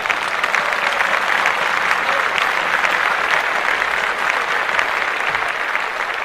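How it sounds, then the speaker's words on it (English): An audience breaks into dense, steady applause that holds strong for several seconds, many hands clapping together without a break. "Clap that up."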